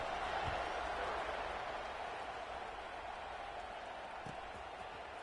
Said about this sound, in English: this crowd is buzzing after that fast score